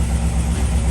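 A dirt buggy engine idles low and steady while cold, a continuous close rumble with a slightly uneven low-end pulse and no revving.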